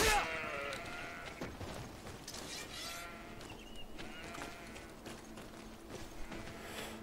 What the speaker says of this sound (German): Also zumindest klingen sie wie Schafe.